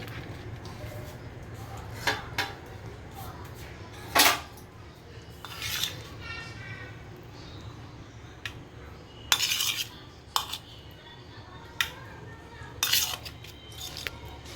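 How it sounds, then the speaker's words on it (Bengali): Knife slicing through a fried chicken mughlai on a plate, a series of sharp scraping cuts and clinks at irregular intervals, close and fairly loud, with low room noise between strokes. "এবার আমি মোগলাইটাকে কেটে নেব।"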